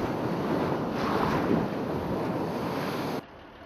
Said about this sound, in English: We are on the river Hooghly near Chandanagar, a suburb of Calcutta, about 60 kilometers away.